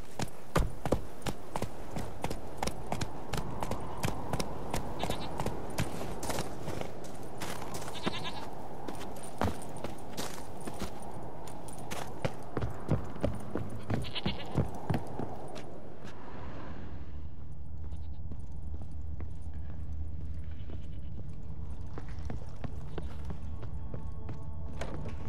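Horse hooves clip-clop in a steady trot through The Witcher 3, moderately close and continuous for about sixteen seconds before dropping away to a low rumble; a voice speaks briefly.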